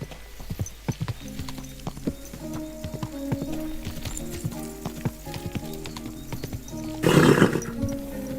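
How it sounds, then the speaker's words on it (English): Steady clip-clopping horse hooves over ambient sound in the video game Kingdom Come: Deliverance II, then a loud horse whinny near the end. "Easy, good horse."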